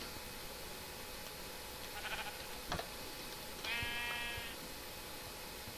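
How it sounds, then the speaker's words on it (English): Sheep bleating in the Minecraft video game: a couple of short, quiet bleats with a rising, wavering tone near the end, over a faint steady background, with no talking. "Get out of my way, sheep."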